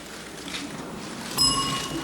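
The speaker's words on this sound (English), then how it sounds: "Then the dreaded bell." A single bright bell ding rings out once over a soft room hum at a spelling bee, signaling an elimination; short and clear, then lingers briefly.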